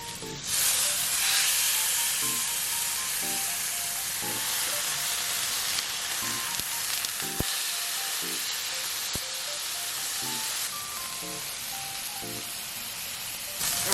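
Blackened catfish fillets frying in a hot pan, a dense, continuous close sizzle and hiss with faint tonal beeps and a few soft knocks, no talking.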